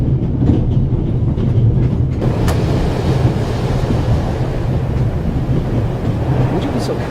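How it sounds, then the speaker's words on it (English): A train rolls along its rails in a video game, a loud, continuous rumble with a steady mechanical rattle and a brief clank partway through. "We Swiss are crazy about trains."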